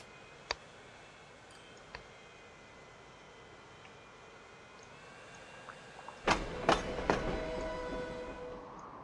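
Trains running in the video game Transport Fever 2, faint rail rumble with scattered clicks, then a louder burst of clattering wheel and wagon noise near the end.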